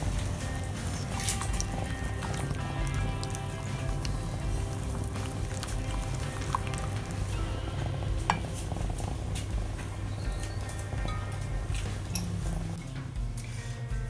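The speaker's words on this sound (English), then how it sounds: "We are putting them back and constantly stirring." A spoon scrapes and clinks steadily against a pan while a liquid custard mixture is stirred constantly, giving soft, continuous sloshing with frequent small metallic taps close by and no voices.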